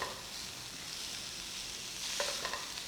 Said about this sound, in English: All this is getting stir fried.